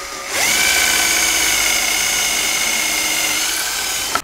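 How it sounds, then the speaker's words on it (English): A power drill drives a screw into a wooden fence part, starting abruptly and whining steadily at high pitch for about four seconds before cutting off with a short click, close and loud with no talk. "just got done finally screwing this thing back on"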